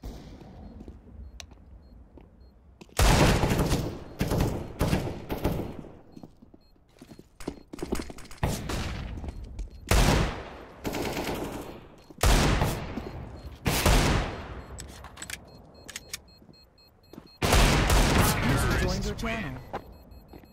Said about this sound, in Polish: w niego strzelił